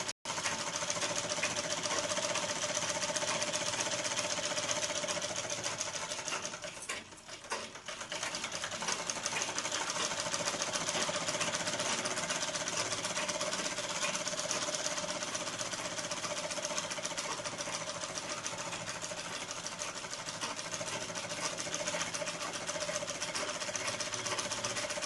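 A sewing machine runs almost nonstop while stitching the neckline of a long dress made from an old hand-worked saree. The motor is a steady, loud drone with one brief dip near the middle. Nobody speaks.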